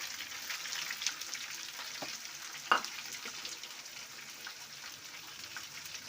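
Onions and curry leaves sautéing in hot oil, a steady soft crackling sizzle with scattered pops and one sharp clink of a utensil, close but fairly quiet, no talking.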